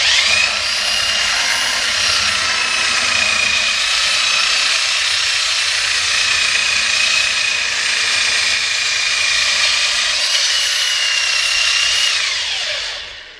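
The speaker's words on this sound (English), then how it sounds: "and then I start sanding" Long, steady power sanding of wood for a rustic coat rack, a loud continuous whine holding for about thirteen seconds before winding down at the end, with no talk.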